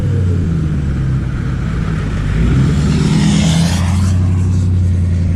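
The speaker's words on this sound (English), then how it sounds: "I got a car coming" A car rumbles steadily toward the listener along Daytona beach in the rain, a loud continuous engine drone that swells slightly as it nears, alone with no talk.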